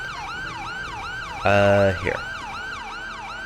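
Ambulance siren in the video game GTA V with the LSPDFR mod, a wailing electronic sweep repeating steadily throughout, broken briefly by a loud horn-like blast near the middle.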